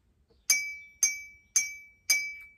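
Four evenly spaced strikes on the sixth glass of a homemade water xylophone, now partly filled with water, each a clear ringing clink that decays smoothly, heard alone and fairly quiet.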